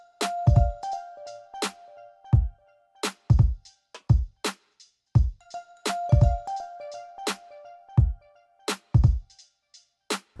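Mallet and xylophone patches play a MIDI melody together over a beat, with short pitched notes ringing above regular deep, punchy thumps in a steady repeating rhythm.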